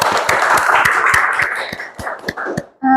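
A small audience claps at a university ceremony, a brief uneven burst of individual hand claps close by that thins out and stops after a few seconds.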